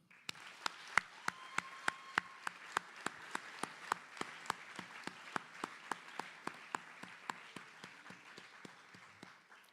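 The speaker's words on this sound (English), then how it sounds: "Let's clap that up." A crowd at a graduation ceremony applauds, with one nearby clapper giving sharp, evenly spaced claps over a softer, steady wash of distant clapping.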